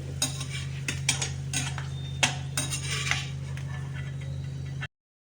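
A metal spoon clinks and scrapes against a pan as fried dry fruits are lifted out of hot ghee, with a dozen or so light taps over a steady low hum and no talk.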